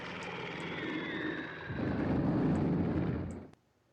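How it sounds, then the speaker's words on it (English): Bomber aircraft drone through an attack in a Russia strategy video game, a droning engine tone with a rising rumble of explosions that cuts off abruptly near the end. "They bomb me with 3 bombers."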